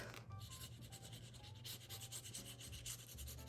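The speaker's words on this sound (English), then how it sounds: "Burnish it, or glue it." A paper page in a large handmade album is rubbed with a burnishing tool, giving a steady series of close, dry scraping strokes with no talking.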